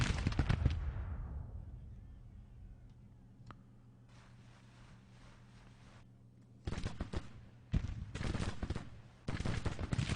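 Musket fire from skirmishers in the Civil War strategy game Grand Tactician, with a loud opening volley, a quiet stretch, then several sharp bursts of crackling gunfire toward the end.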